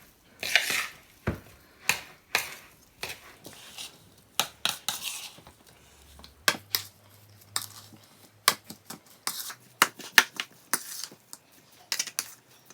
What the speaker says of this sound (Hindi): ये मैं जो मैश किए हुए मेरे पोटैटो थे उसको हम मिक्स कर देते हैं अच्छे तरीके से।